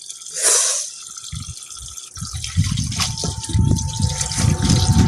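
Running tap water splashes and gurgles over chicken intestines being washed in a sink, starting with a short rush then steady close trickling and dripping, with no voices.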